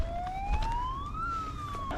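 A siren wails upward and holds, sounding to signal the start of an airsoft engagement outdoors, a clear rising electronic tone over a background rumble.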